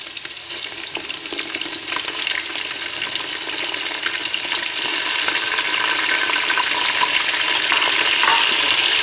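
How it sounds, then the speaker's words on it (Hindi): Whole spices and garam masala with chicken frying in a pan, a steady close hissing sizzle that builds slightly louder, with faint occasional stirring scrapes and no voices. "थोड़ा सा फ्राई कर लेंगे और साथ ही ऐड कर देंगे हम चिकन।"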